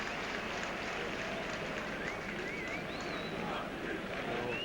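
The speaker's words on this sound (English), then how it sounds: "applause rings around the stadium from the home fans for Andreas Andersson" Home fans applaud around a football stadium during a Gothenburg v Rangers match, a steady wash of crowd clapping and noise filling the whole clip with no clear breaks.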